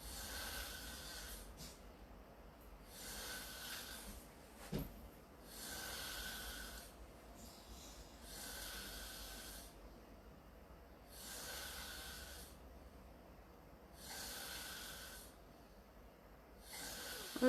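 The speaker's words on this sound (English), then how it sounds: "he is still on the couch snoring" A man snoring on a couch: slow, regular rasping breaths in and out, each snore a soft hissing snort repeating about every two seconds, faint and close in a quiet room.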